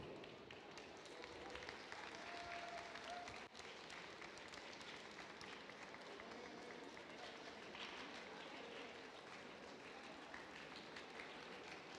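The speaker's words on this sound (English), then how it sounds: "Another round of applause for Line Follower Turbo." A crowd applauds the Line Follower Turbo team at a robotics competition event, sustained dense clapping that continues evenly for many seconds without speech.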